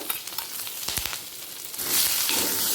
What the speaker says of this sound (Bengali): আলুটা লাল করে ভাজা হয়ে গেছে এই সময় দিয়ে দেব এক চামচ আদা বাটা আর চেরা কাঁচা লঙ্কা